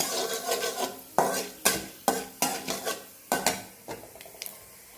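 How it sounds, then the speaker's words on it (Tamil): Shallots and curry leaves tempering in a pan, sharp repeated metal spoon scrapes and clinks in an uneven rhythm over a light sizzle, close and clear, with no talking. "சின்ன வெங்காயம், கருவேப்பிலை, இதை மட்டும் போட்டு தாளிச்சிருக்கேன்."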